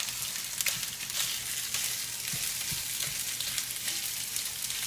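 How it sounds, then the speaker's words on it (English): Ground sweet Italian pork sausage frying in a pan as it is broken up, a continuous close sizzle with occasional scraping and tapping of the utensil against the pan. "so just break up the sausage"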